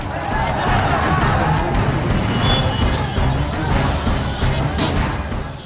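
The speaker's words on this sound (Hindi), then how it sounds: "उग्र भीड़ पत्थर बरसा रही है।" Crowd of angry students on a street outside the Sasaram collectorate, a dense, steady roar of voices and movement with traffic noise underneath, loud and continuous throughout.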